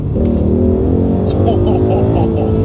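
A 2016 Ford Mustang GT with 435 horsepower, downshifted into second gear and floored, gives a loud, continuous engine roar that keeps building throughout, with a voice briefly audible over it.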